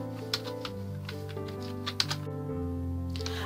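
Computer keyboard typing close by, a short run of soft irregular key taps over a steady background hum while a search is entered.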